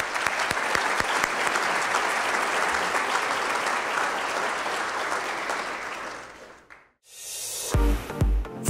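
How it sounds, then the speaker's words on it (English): A large seminar audience applauds steadily for two honored people, a thick wash of clapping that fades out near the end before a burst of music cuts in. "let's give them both another round of applause"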